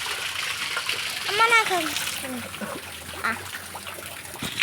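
Rainwater runs and splashes across the ground after a rain shower, a steady broadband wash that carries on throughout, with a voice speaking briefly over it near the middle.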